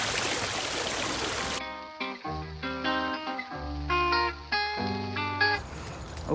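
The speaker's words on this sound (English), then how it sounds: "I don't even know if you can hear me over this water" Running water rushes in a steady hiss at a behind-the-scenes photo shoot, loud at the start and the end, while a stretch of tonal, music-like sound takes over in the middle.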